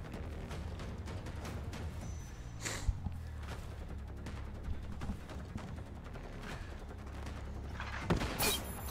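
Video game gunfire crackles in a steady stream of quick shots and bursts throughout, moderately close, with a couple of louder impacts near the middle and end.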